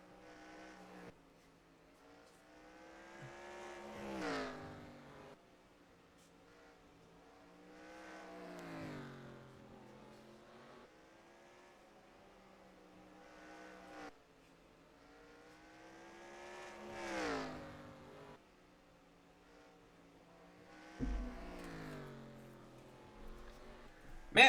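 Race cars circle Berlin Raceway during an NRX Meijer Cup race, engines swelling as each pack sweeps past and fading again, four rising-and-falling passes in a steady rhythm, moderately loud.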